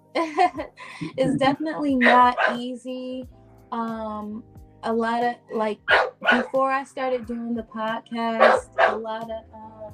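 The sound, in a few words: dog barking in the background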